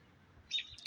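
A bird outdoors lets out a few quick, high chirps over a quiet background, the calls coming near the end and fairly faint.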